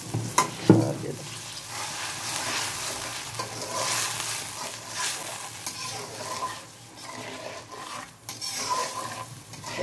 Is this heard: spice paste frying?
yes